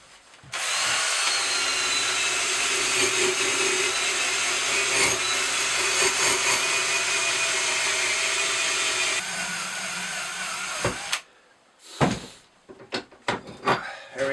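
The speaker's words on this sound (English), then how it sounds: "we're going to get the wire wheel on this and get it cleaned up" A power wire wheel grinds steadily against a double bit axe head, stripping old paint for about nine seconds at close range, then drops in pitch before stopping, followed by a few scattered knocks and handling clatters.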